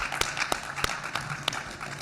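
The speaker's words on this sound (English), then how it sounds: "Let's give the panelists a round of applause." A handful of separate, spaced claps from a small audience after a technology showcase panel, sparse and moderately loud against a quiet room.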